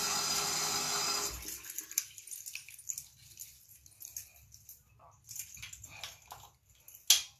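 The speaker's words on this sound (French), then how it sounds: "je vais d'abord mouiller mon visage" Water runs for a moment, then gives way to soft wet splashes and patting as a face is wet before a skincare routine, close and fairly quiet, ending in one sharper splash.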